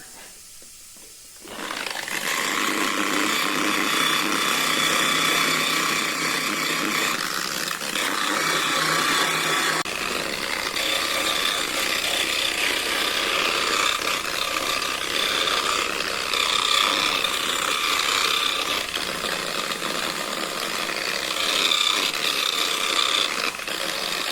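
A polished Calatorao marble sphere is sanded by hand, a steady, loud abrasive rasping that runs continuously for the whole stretch without voices.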